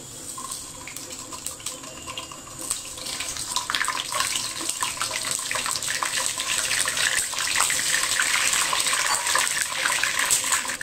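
An egg fries in hot mustard oil in a pan, giving a continuous bright sizzle with dense crackling that grows steadily louder and fuller as it goes on.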